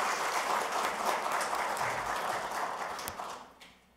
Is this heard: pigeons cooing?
no